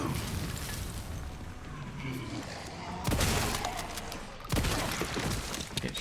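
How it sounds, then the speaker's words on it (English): Two heavy shotgun blasts in Resident Evil, each a loud sharp boom over a noisy game-combat background, spaced about a second and a half apart. "Get shotgun blasted."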